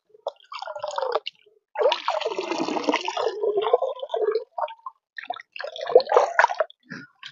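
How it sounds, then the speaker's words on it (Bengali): Straw mushrooms are rinsed by hand in water, with splashing and dripping in irregular bursts, short pauses between them and a long swishing stretch in the middle. "এবার দেখো এইভাবে ভালো করে ধুয়ে নিচ্ছি।"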